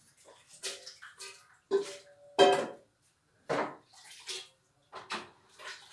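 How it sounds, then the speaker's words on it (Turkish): Oil can being washed under running water in a kitchen sink, with intermittent splashing bursts and clinks of the metal can, fairly quiet and close, no talking. "Şu yağdanlığımız da bir yıkansın."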